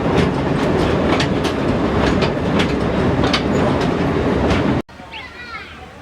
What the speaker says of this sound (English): Now we just got off our little train